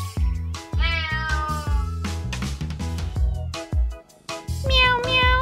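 A cartoon cat meows repeatedly in bright, sing-song tones, several drawn-out mews in quick succession, close and loud.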